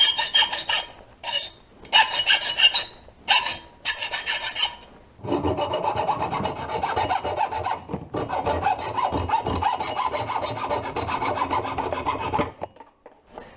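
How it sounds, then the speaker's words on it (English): A hand saw cuts through the end of a steel brake line on a 2004 Chevy Silverado 2500HD, with rough rasping strokes in short bursts at first, then a steadier continuous sawing run up close. "Just saw the end of this thing off."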